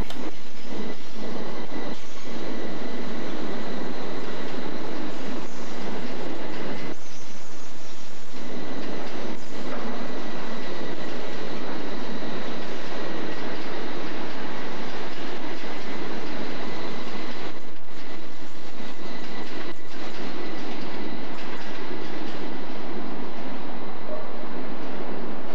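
A British Rail Class 332 electric train runs in a loud, sustained rumble with electric whine tones and brief rattling bursts from the wheels and carriages, heard close by.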